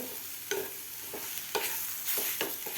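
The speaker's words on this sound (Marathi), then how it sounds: "व्यवस्थित मिक्स करून घ्यायचं आहे आपल्याला" Potato bhaji mixture stirred in a pan, a soft, steady sizzle with several distinct scraping strokes of a spoon at irregular intervals, close but fairly quiet, no voices.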